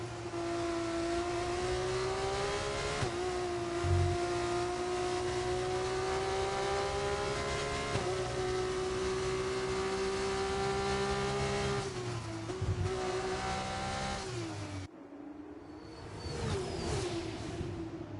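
F2 race cars in a racing video game, a sustained, high-pitched engine drone with shifting revs as the cars run close together, cutting off abruptly near the end.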